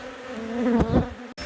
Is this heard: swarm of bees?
yes